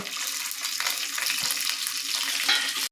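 Cashews and almonds fry in melted ghee for maida halwa, giving a steady, close sizzle and crackle that holds for about three seconds with no talking.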